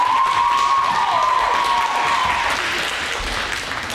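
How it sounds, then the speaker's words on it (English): A conference audience claps steadily for a few seconds at a closing session, a dense patter of many hands that fades slightly toward the end, with a thin ringing tone early on. "Yeah, you can clap. That works."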